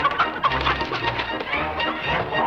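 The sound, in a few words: chickens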